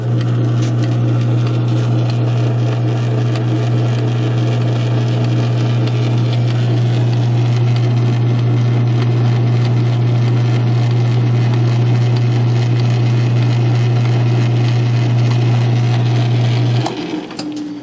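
A South Bend 9-inch lathe with a converted gearbox running at a slower speed, a steady mechanical hum with light rattling and whirring that continues evenly before the motor cuts off near the end.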